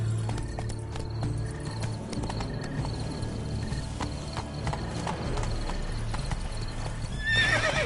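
A horse gallops in the Witcher 3: Blood and Wine video game, its rhythmic hoofbeats close and continuous, with a whinny near the end.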